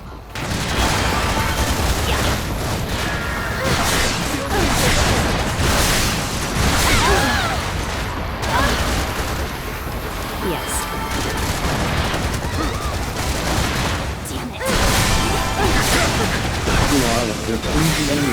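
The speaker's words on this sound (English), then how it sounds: "Explosion detected in enemy abductor." Dense gunfire and booming explosions from the video game Freedom Wars Remastered, loud and nearly continuous, with a spoken voice heard over the combat.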